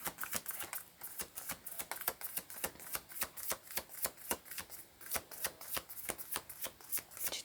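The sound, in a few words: shuffling tarot cards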